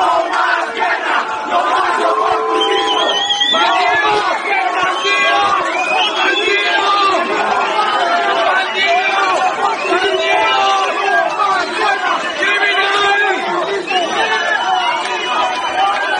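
A large crowd greeting Colombian politician Uribe with whistles, jeers and chanting, a loud, continuous roar of many voices with shrill whistles cutting through throughout.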